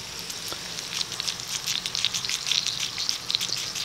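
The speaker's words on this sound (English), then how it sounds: "Oh, I hear some sizzling." Salted, peppered pot roast searing in a hot pan gives a steady, close hiss with crackling pops, alone without talk.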